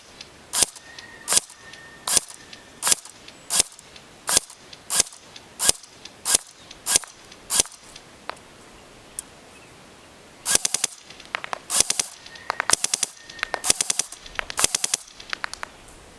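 A Cybergun M14 Socom airsoft electric rifle fires at a target 100 feet away: about ten sharp, close single shots evenly spaced, a short pause, then rapid irregular bursts of shots, with no talking.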